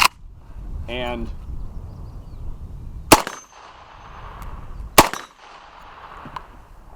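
An RPK rifle with a binary trigger fires single rounds in semi-auto, two sharp separate shots about two seconds apart, while someone talks between them.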